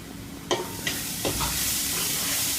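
Tomatoes sauté in a hot pan with a steady bright sizzle, broken by three or four scraping stirs of a spoon close by, no voices.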